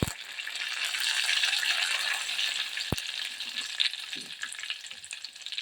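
Garlic and curry leaves frying in hot oil with mustard seeds, a steady bright sizzle that holds close and loud throughout, with a sharp clink of a utensil near the middle.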